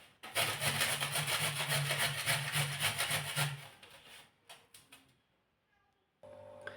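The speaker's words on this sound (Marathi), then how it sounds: "आता चला याला आपल्याला किसून घ्यायचं आहे आता इथे सर्व गाजरं किसून घ्यायचे आहेत" Carrots being grated by hand for carrot halwa, a steady rhythmic rasping scrape for several seconds that fades out, followed by a brief quieter pause.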